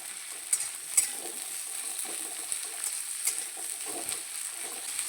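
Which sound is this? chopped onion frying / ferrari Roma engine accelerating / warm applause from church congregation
chopped onion frying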